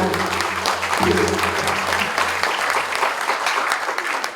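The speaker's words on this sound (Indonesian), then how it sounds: "Ya, tepuk tangan yang meriah semuanya." Sustained applause at a national working meeting in the Riau Islands, Indonesia, a dense crowd clapping throughout with a faint voice and low hum underneath.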